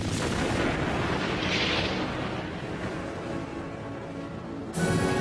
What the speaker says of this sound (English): The explosions of the first stars changed the universe irrevocably.